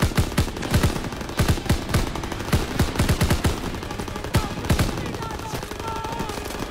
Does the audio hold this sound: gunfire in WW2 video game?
yes